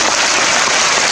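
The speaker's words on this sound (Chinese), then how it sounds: "我们给他们一个大大掌声好不好" Continuous dense applause from an audience at a Yunlin County model children awards ceremony in a university performance hall, honoring award-winning children; loud, steady and uniform throughout, like a wash of rain.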